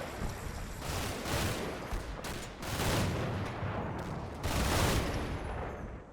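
High-explosive shells firing and bursting in the World War II tank game Combat Mission: a dense, continuous rumble of distant gunfire and explosions with repeated louder surges, and no voices.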